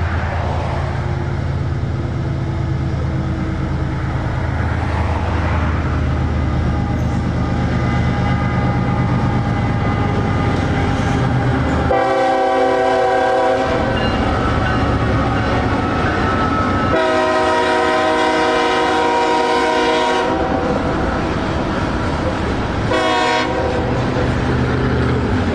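CSX grain train of loaded cars on the Gainesville Midland Sub rumbling past close by, with a loud, sustained multi-tone horn sounding in several long blasts over the steady roll of the wagons.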